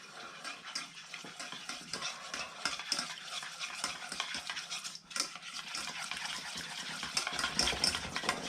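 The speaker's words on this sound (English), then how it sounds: "I'm just going to stir this in." A tablespoon of natural yoghurt stirred into a Moroccan-style marinade for spatchcock chicken, a steady close scraping and squelching of a utensil against a bowl, continuous and fairly quiet, with no voices.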